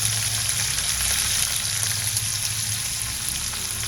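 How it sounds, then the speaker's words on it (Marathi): Onion frying with garlic in hot oil in a pan, a steady loud sizzle that continues without break under a faint low hum, close up with no speech. "आपण यावर हा कांदा घालूया."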